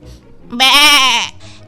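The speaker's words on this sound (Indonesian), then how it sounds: "Kali ini Hetty meminta bantuan si Billy, si kambing" A goat bleats once in a children's farm story, a single loud, wavering cry lasting about half a second and standing out over quiet background.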